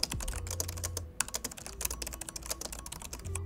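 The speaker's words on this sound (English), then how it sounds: "the only downside with this keyboard is that, well, these sound louder compared to other laptop keyboards out there." Quick clicking keystrokes on an MSI GT77 Titan gaming laptop keyboard, close and crisp, with a brief pause near the middle before the tapping resumes.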